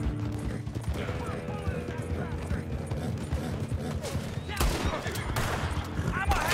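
Horse hooves clatter at a gallop with bursts of gunfire and mechanical creaks in Red Dead Online, a steady busy mix of game action with louder shots near the end.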